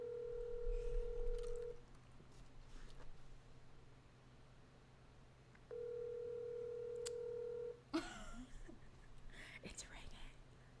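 A telephone ringback tone plays during an outgoing call to Satoshi: two long, steady buzzing rings separated by a few seconds of quiet. Faint murmuring talk sits underneath, and a voice speaks up near the end.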